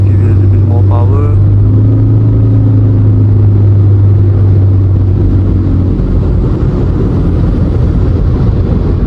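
A 2019 Proton Persona 1.6 Premium accelerating on a test drive, its engine rumbling low and steady from inside the cabin, rising in tone toward the end while someone talks over it.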